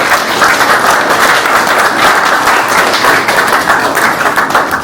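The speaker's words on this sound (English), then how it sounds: "perhaps a round of applause as well" Audience applause for the makers of the boards at a centenary celebration of the South Stand at Fratton Park, a steady, dense round of clapping that stays loud and even throughout, with no voices over it.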